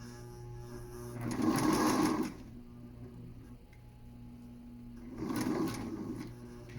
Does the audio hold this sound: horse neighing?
no